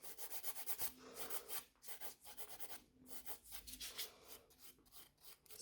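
A natural nail being filed straight with a nail file, quick repeated close scratching strokes in a steady rhythm, soft but clear, with no talking.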